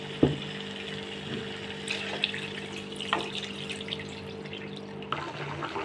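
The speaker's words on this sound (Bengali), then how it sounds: "এবার আমি পরিমাণ মতো পানি দিয়ে দেবো এটায়।" Water is poured into a pot of chicken curry, a soft, steady trickle with a low hum underneath and a few small clinks.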